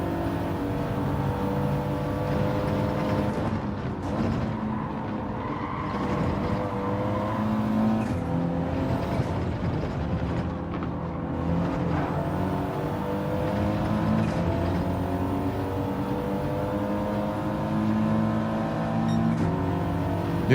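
Race car engine in Gran Turismo 7 holds a steady, continuous drone with shifting engine tones, rising and falling gently as the car runs at speed, close and fairly loud throughout.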